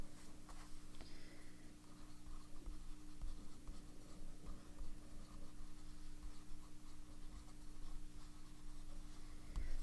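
A fountain pen nib scratches across paper laying down pastel pink ink, a faint continuous scratchy writing sound against a low steady background hum.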